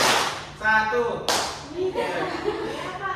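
A classroom of students claps once together on cue, a single sharp, loud burst following a short chanted call from voices.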